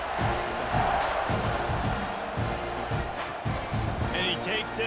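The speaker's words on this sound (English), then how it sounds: "Do you think this crowd's going to get loud when their defense comes on the field?" A packed stadium crowd in EA Sports College Football 26 roars in a loud, continuous wall of cheering at the kickoff, with rhythmic chanting swells and a few whistles near the end.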